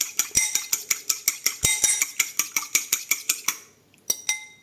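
Rapid whisking of beaten egg with a splash of soy milk in a bowl, a steady run of close, bright metallic clinks about four per second that stops near the end, followed by a couple of stray taps.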